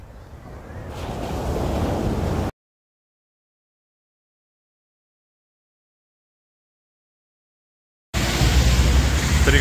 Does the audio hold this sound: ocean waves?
yes